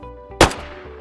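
A single sharp, loud report from a USG45 firearm in DayZ, close and abrupt with a quick decaying tail, against a quiet background.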